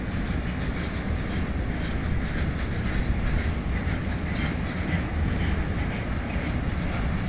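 A blue early-version WAG-7 electric locomotive hauls a long train of more than 50 refined-petrol tank wagons, a continuous rumble and rattle of wheels on rail, steady and fairly close, with no voices.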